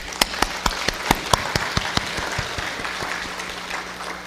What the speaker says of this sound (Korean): 우리 하나님께 우리의 감사와 영광의 박수를 한번 올려드리겠습니다